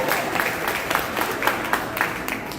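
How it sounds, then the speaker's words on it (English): A ballroom audience at an Alabama political meet-and-greet applauds two district attorneys, a short burst of crowd clapping with a few sharper claps standing out. "Give a round of applause"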